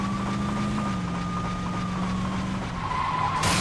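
A car in Saints Row 2 drives hard with a sustained engine drone and a long, high tire squeal as it skids, loud and continuous, ending in a brief sharp burst of noise.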